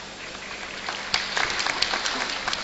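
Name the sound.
audience clapping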